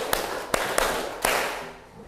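Students in a class clap out a five-beat rhythm pattern, crisp hand strikes spaced unevenly and ringing in a small room.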